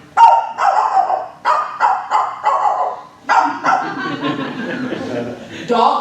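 A person imitates a dog barking with a series of about eight loud, close bow-wow barks and yips in uneven bursts. The last barks blur together into a rougher, growling stretch.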